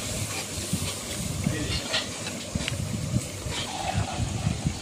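Hot water poured into pulao cooking in a pot, giving a steady hiss and sizzle of steam with faint bubbling and clatter, close and continuous.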